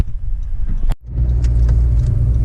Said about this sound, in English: A lot of cars coming.